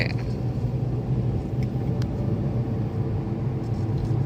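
Steady low rumble of a freshly rebuilt car engine while the car is driven in loops at a dam, heard from inside the moving car as a constant drone.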